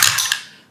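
Dice tumbling through a dice tower during a tabletop game, a quick loud clattering burst of rattles and knocks that fades out.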